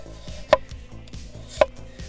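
A sharp Samura knife slicing potatoes thinly on a board, quick regular taps with two sharper clacks standing out, close and clear with no talking.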